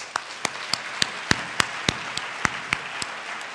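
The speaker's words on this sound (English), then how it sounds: "I want all of us to give you one more round of applause." Scattered, sparse claps from an audience at a veterans' women's mentoring event, a dozen sharp hand claps spaced irregularly over a soft crowd murmur, moderately near and not building into full applause.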